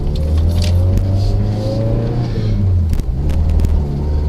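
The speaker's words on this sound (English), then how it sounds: "I just showed an intro of the exhaust sound." A Toyota SW20 MR2 sports car exhaust rumbles with a deep, steady engine note that swells as the revs rise, loud and close, with a sharp blip near the end.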